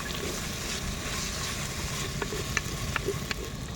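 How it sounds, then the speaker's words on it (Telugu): Chopped onions sautéing in a very hot pan for prawn biryani, a continuous moderate sizzle with a few light clinks of a stirring spoon near the end. "ఉల్లిపాయలు వేసుకొని కొంచెం బాగా కలియబెట్టుకున్నాము."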